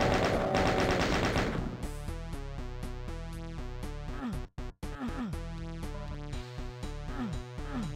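Rapid, relentless chaingun fire from Ultimate Doom rattles loud and close in continuous bursts, briefly cutting out once before resuming, with no voices.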